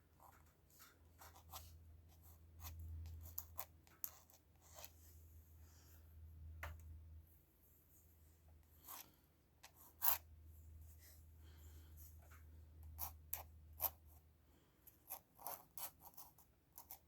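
A pen nib scratching across paper while a chin is inked in a drawing, a quiet run of irregular strokes and scrapes with soft rubbing between them, close up and with no talk.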